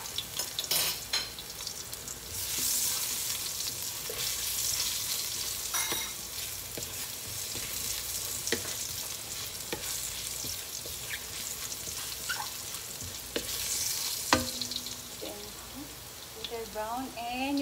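Minced garlic sizzles steadily in a pan while a utensil stirs and scrapes against the metal at close range, with occasional clinks and a voice heard faintly in the background.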